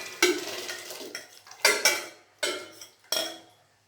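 Sago pearls dropped into simmering semiya milk payasam in a pot: four separate clinking scrapes of a metal spoon against the vessel, close and moderately quiet, each fading quickly.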